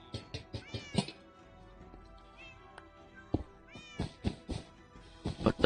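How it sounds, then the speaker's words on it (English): A Minecraft cat gives a string of short, close meows, some drawn out into wavering cries, with short pauses between them. "Just like a cat."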